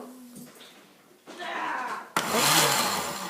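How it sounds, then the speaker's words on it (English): A kitchen blender whirs into action chopping chunks of bread, motor starting low then jumping to a loud, steady grinding roar for the last second or so. "So we're taking chunks of bread, putting them in the blender."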